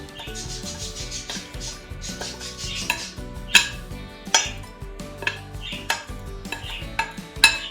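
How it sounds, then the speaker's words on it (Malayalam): A spoon scrapes and clinks against a bowl while mixing chicken with yogurt and spices for an easy karahi chicken curry, with irregular knocks and rubbing strokes, close and clear, and no voices. "ഇതെല്ലാം ഒന്നിച്ചിട്ടിട്ട് മിക്സ് ആക്കുന്നതാണ്."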